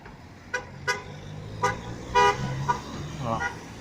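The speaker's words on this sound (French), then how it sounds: "Ça klaxonne" Several short car horn toots sound at intervals over a low motorway traffic rumble in France, some brief and sharp, one slightly longer.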